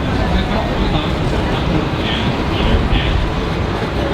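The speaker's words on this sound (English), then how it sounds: "We're gonna hop on the tram now" Steady rumbling ride noise inside a theme park tram, a continuous low drone with faint squeals, with people talking over it.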